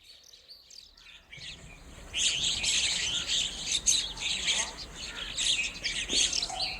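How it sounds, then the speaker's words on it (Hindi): Small birds sit perched and chirp in a busy, overlapping chorus of high tweets, starting faint and growing fuller after a couple of seconds, fairly close and with no talk. "देखो जी माशाल्लाह चिड़ियाँ बैठी हुई"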